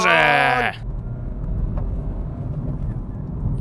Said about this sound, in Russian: Дизельный движочек!